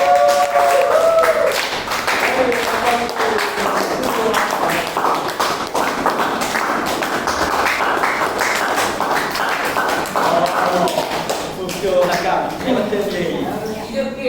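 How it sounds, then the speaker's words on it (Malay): Clapping from a group in a classroom session, a long steady round of close hand claps lasting over ten seconds with voices murmuring and talking beneath and around it. "Okey, bagi tepukan."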